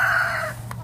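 Chickens on a farm during feeding time with a bucket of chicken feed, one bird giving a drawn-out crowing call that fades, then a brief cluck near the end, close and fairly loud.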